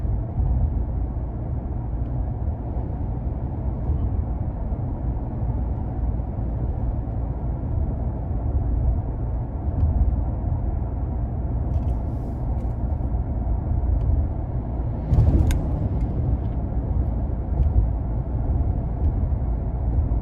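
A steady, deep cabin rumble and road noise come from a 2022 Nissan Frontier SV King Cab pickup truck driving on a road with a stiff ride. The drone holds at an even level, with a brief louder rush partway through.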